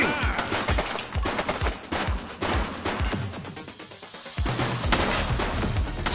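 Rapid gunfire from an armed suspect in the police video game The Precinct, dense bursts of sharp shots cracking in quick succession, pausing briefly before another loud volley, with no speech over it.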